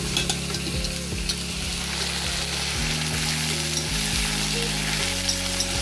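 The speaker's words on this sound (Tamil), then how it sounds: "காராமணி கலக்க போறோம்." Steady loud sizzling of black-eyed peas frying in a pan with popped mustard seeds, with scraping and stirring sounds from a utensil throughout.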